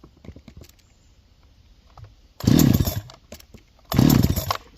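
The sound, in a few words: Farmertec Holzfforma G372 XP chainsaw engine running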